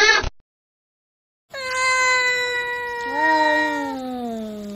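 A cat gives a long, drawn-out meow, loud and close and rising slightly in pitch near the end, after a brief earlier sound and a pause of silence.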